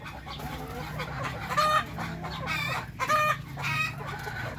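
Darag native chickens cluck and crow in repeated bursts over steady background farm noise, close and fairly loud, with no voices.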